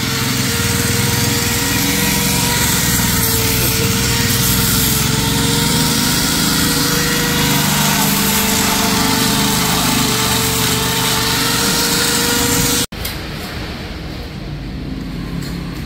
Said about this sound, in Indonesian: menggunakan gerinda, guys. Cara pengamplasannya seperti ini